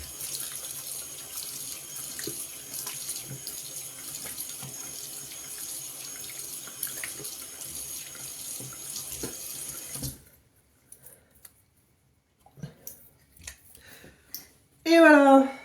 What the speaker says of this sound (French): je vais me rincer.